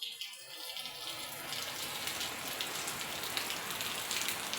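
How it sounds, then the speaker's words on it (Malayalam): Steady rain falls outdoors on an empty street, a dense, even hiss of drops on surfaces that holds at moderate loudness throughout, with no voices. "മഴയുണ്ട്, എന്നാലും മുമ്പേ പെയ്തത്ര ശക്തിയില്ല."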